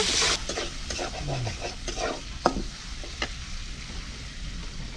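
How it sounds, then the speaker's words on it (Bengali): Chopped onions sizzling in a pan on a clay stove, a soft continuous fry punctuated by several sharp stirring scrapes and one distinct knock, close and moderately quiet, no one speaking. "পেঁয়াজটা একটু লাল লাল করে ভাজা নিব।"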